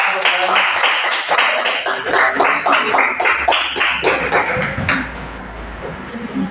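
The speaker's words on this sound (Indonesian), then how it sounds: "Yuk, tepuk tangan," A group of students clapping in a classroom, a ragged run of quick hand claps that fades out after about five seconds, with a voice heard over the start.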